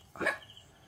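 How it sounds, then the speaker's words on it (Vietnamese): A dog gives a single short bark in a garden near a banana grove, moderately close and brief against quiet surroundings. "Chó nó sủa quá."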